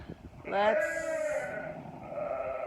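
Sheep and lambs bleat in a pen during lambing season, one loud, wavering bleat rising close by and trailing off into softer bleats, with quiet talk underneath.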